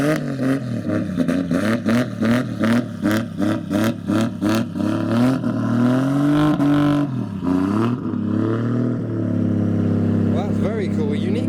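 A Toyota Mark II engine revs again and again in quick rhythmic bursts, then holds a long, loud sustained rev before dropping and revving once more.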